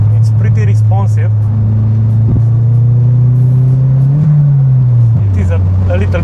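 A turbocharged Opel Kadett Bertone pulls hard from inside the cabin. Its steady engine drone climbs gradually in pitch, eases off, then settles lower, with faint speech layered over it.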